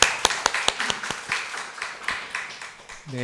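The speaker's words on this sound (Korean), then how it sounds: "우리 하나님께 박수로 모든 영광 올려드립니다." A church congregation claps to give glory to God after a prayer: sharp, uneven claps with a steady rush of applause beneath, tapering off before a voice starts at the end.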